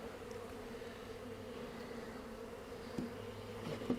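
Honey bees drone in a steady, low buzz from an opened hive box during early spring, with a few louder passes as individual bees fly close.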